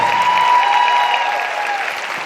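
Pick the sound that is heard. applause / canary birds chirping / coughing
applause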